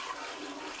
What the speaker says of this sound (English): you're going to take your bucket of water and you're going to pour it all down the toilet